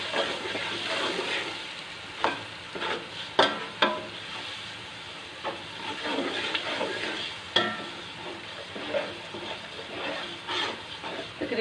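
Spices sizzle and fry steadily in a pan for kofta pulao, with repeated scraping stirs and clinks of a spoon against the pan, close and continuous without talk.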